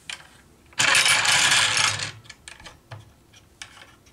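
A Tormek sharpening jig is fitted into the tool rest of a Kalamazoo belt sander, giving a loud, close mechanical clatter and scrape lasting about a second. Quieter metallic taps and clicks follow.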